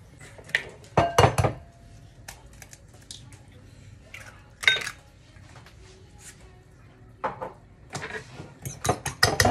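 Three eggs with salt are beaten in a bowl for soup dumplings, giving irregular bursts of sharp utensil clinks and taps against the bowl with quieter gaps between, close and fairly faint.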